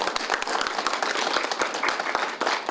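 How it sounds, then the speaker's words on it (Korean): An audience at an awards ceremony for a literary prize claps for the winner, a steady dense patter of many hands at moderate volume throughout. "따뜻한 박수로 축하해 주시면 고맙겠습니다"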